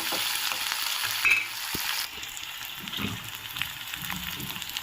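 Green chillies sizzle steadily in hot oil in a pan, a dense, close frying hiss with a few soft stirring knocks and clinks and no voices.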